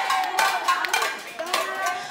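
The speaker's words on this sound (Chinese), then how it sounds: "古巴人在街上敲打锅碗瓢盆，高喊快点开灯" Cubans in a Havana street bang pots and pans in protest during a nationwide blackout, giving a run of irregular, ringing metallic clangs that overlap against a quiet background.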